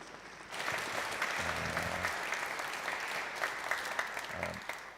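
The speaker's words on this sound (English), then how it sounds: "Let's give David a round of applause" An audience applauds a lecturer at a public lecture on the Earth, the Moon and cosmic perspective, with dense, steady clapping that fills the room throughout and a voice breaking in briefly.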